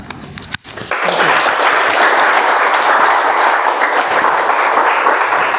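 A meeting audience at a speech marathon breaks into sustained applause, starting after a brief pause and then holding as a loud, even roar of clapping hands nearby.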